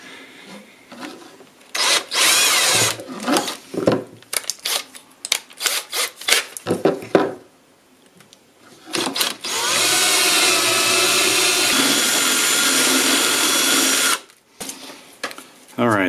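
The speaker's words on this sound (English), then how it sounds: "now what I'm going to do is drill an access hole for the coax to come off the mask" A drill bores an access hole through a metal antenna mast tube, with bursts of whining, grinding drilling between pauses, then a long continuous run of several seconds, loud and close.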